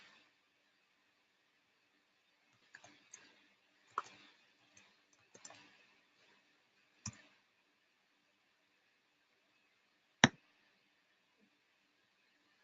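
Scattered keystrokes on a computer keyboard during a Vue programming lecture, sparse irregular clicks with one sharper louder tap near the end, faint and alone without talk.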